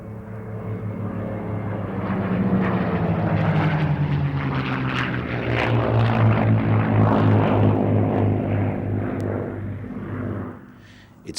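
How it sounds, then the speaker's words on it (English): P-51 Mustang fighter with a Merlin engine flying by at an air show, a loud propeller drone with a deep throbbing tone that swells and shifts in pitch as it passes, then fades sharply at the end. "With its original power plant replaced by the proven Merlin, the P-51 Mustang became a flying legend"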